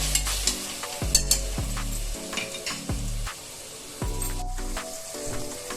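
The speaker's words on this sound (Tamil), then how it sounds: "அதுல இஞ்சி பூண்டு நல்லா வதங்கட்டும்." Ginger garlic paste sautéing in a pan for paneer biryani, a steady frying sizzle broken by repeated scraping stirs of a spoon against the pan, close and fairly loud, with no voices.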